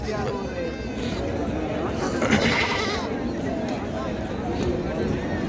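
Goats bleating amid a dense, noisy crowd at a goat and sheep market in Neknur, with steady babble of voices, a few calls rising above the constant market hubbub.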